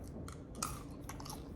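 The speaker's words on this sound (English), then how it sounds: "Has a nice crunch, which is what I always look for in a gum." Gum from a Norwegian armed forces Arctic ration is chewed close up, giving quiet wet crunching and clicking bites in an uneven rhythm, with no talk.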